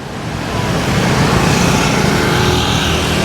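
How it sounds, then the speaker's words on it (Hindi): Heavy scooter traffic fills a street in Hanoi's Old Quarter, a dense continuous wash of buzzing engines and road noise, loud and close with no talking. "हर लोग स्कूटर पे ही होते हैं, तो स्कूटर की बहुत ज़्यादा ट्रैफिक रहती है"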